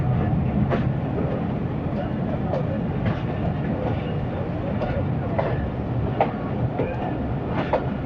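The Khushhal Khan Khattak Express sits at a station platform with a steady mechanical rumble, while repeated metallic clanks and clicks ring out at intervals and a crowd murmurs around it.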